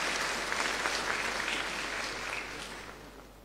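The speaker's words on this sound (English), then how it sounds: "Let's welcome Marvelous Ano with a round of applause." A large audience at Ghana's 2024 State of Education address applauds a student spoken word performer, a broad, even roar of clapping that slowly fades over three and a half seconds.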